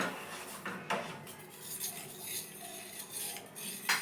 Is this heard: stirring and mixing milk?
yes